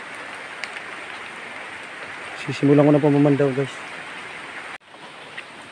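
Steady rain hissing down beside a river in the early dim light, a broad continuous wash of noise with someone speaking over it partway through.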